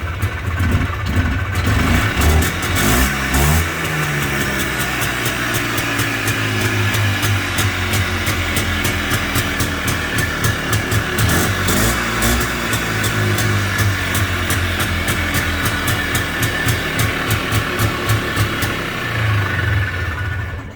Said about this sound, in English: Yeah, idles now, nice acceleration, everything